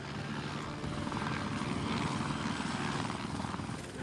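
A firefighting helicopter flies overhead during a water drop on smouldering ashes, its rotor thrumming as a steady, fairly faint drone that holds evenly throughout with no talk.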